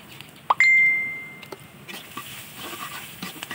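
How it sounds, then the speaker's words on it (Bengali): Broken rice grains poured into a pan on a clay stove. A sharp metallic ding and ringing tone come first, followed by a soft, close patter and rustle of grains that continues to the end. "হলুদ লবণ দেওয়া হলে খুদের চাউলগুলো ঢেলে দিব"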